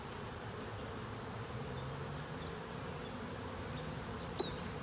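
Bees buzz around a crowded hive in a constant, dense, droning hum, many insects close by, with no voices.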